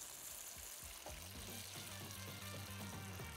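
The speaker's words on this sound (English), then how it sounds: "So for the second cook, we're gonna go into the fryer." Chips deep frying in a fryer basket, giving a continuous soft bubbling sizzle, quiet and even throughout with small pops and no talking.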